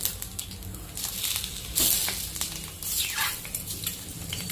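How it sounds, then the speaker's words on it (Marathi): Eggs fry in oil on a hot griddle, sizzling and crackling steadily, with brief bursts of louder spitting and scraping partway through. "तव्यावर आधी तेल टाकून घ्यायचं आहे आणि मग एक एक अंडी आपली सोडायची आहे"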